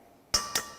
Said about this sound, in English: Crack in your egg.